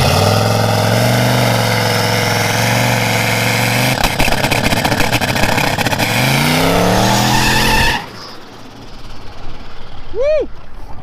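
A turbocharged LS-swapped third-generation Camaro at a car meet revs hard, its loud engine climbing and shifting through rising pitch sweeps before cutting off abruptly. Quieter crowd noise and a brief squeal follow.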